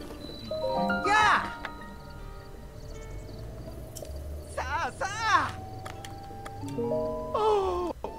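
Horse in a Zelda video game, giving a few sharp whinnies spread through the clip over a soft game ambience with chirping insects, fairly close and clear.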